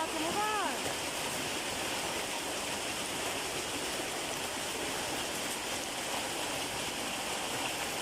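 A heavy rainstorm with strong wind and hail, the hailstones as large as ping-pong balls, roars as a steady, dense wash of rain and ice with a brief voice near the start.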